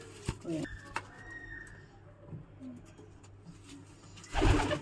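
Pigeons at a racing-pigeon shield event coo softly in low, murmuring calls under nearby people talking, with a louder rustling burst near the end.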